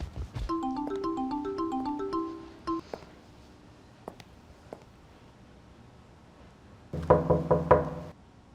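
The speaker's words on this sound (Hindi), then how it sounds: "यास्मीन, यास्मीन, बस दरवाजा खोल दो, मैं तुम्हें देखूंगा और चला जाऊंगा। खोलो जल्दी।" Knocks on a door, one sharp pair near the start and a louder burst of rapid raps near the end, with musical tones playing earlier.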